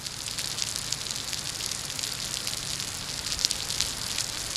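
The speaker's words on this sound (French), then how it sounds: "Ici, c'est un mur d'eau continue qui semble tomber tout droit du ciel." Heavy tropical rain pours down outside a church in a steady, dense roar with no break.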